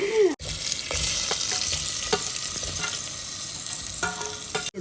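Food sizzles and fries steadily in a hot pan at close range, with a few brief stirring scrapes and no talk.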